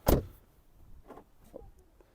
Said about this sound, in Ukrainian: Двері закрилися і двері відкрилися.